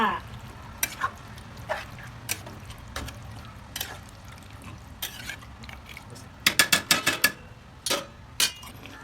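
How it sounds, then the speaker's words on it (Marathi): Hyderabadi chicken masala sizzles quietly in a pan while a spoon scrapes and clinks against it, sparse at first, then a quick burst of stirring strokes. "त्याला त्या मसाले चांगले मिक्स करून घ्यायचा"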